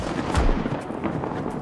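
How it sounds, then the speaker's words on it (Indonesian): A loud, booming blast with a rumbling tail that stays dense and noisy throughout, a gunshot echoing in a film scene. "Sid ternyata melepaskan tembakan ke arah Bob."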